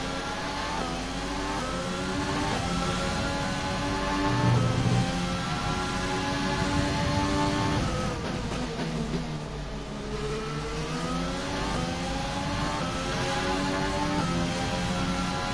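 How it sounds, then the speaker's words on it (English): A Formula 1 race car engine in the F1 2020 racing game screams and revs up and down as the car accelerates hard out of corners, running on a rich fuel mix, loud and continuous with rising and falling pitch. "really pushing it into those corners, getting on the throttle really early"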